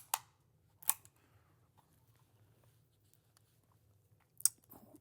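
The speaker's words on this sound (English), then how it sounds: "And there's the scissors." Scissors built into a Dymo Omega label maker cutting embossed label tape, a few sharp, close snips spaced apart in a quiet room.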